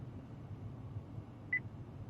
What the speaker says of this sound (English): After the beep, say a command.